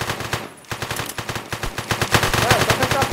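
Rapid automatic gunfire in an online multiplayer robbery game, a dense string of loud shots with a brief gap near the start, then continuous bursts with a faint voice underneath.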